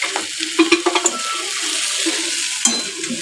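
Okra (bhindi) fries in a pan, stirred with a utensil, giving a steady sizzle with several sharp scraping and clinking strokes near the start and another knock toward the end.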